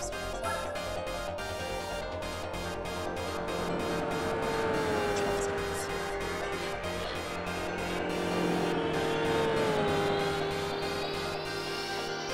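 Race car engine in Gran Turismo 4, a steady loud droning whine climbing and settling in pitch through gear changes, continuous and close over steady game sound, no talking.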